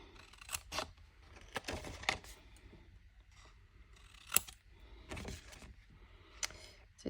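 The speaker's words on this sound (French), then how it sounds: "je vais couper à peu près à la moitié" Scissors snip through paper to make a scrapbooking gift-box place card for Christmas, giving a string of crisp, close cuts at uneven intervals with quiet pauses between them.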